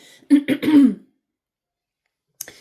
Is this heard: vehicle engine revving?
no